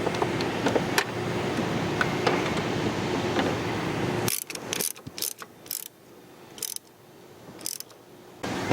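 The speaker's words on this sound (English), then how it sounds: "Give it a little tighten with the ratchet" A ratchet tightens nuts on a clutch cylinder. Bursts of quick, sharp clicks cut through a steady background hum, then after a pause a few more separate clicking bursts follow, close up and with no talking.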